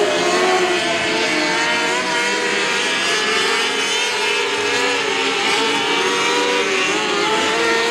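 Race car engines roar loud and continuous at a night race at Gulf Coast Speedway, several motors layering into a dense, droning wail as the cars circle the track.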